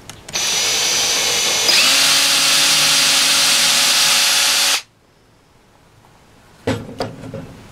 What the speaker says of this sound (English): Now I need to drill the other hole.